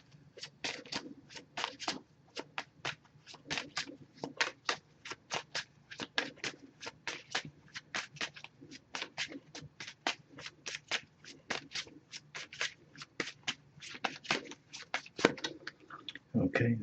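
An oracle card deck is shuffled by hand, giving a long run of quick, crisp riffling bursts in a steady rhythm, close up and fairly quiet.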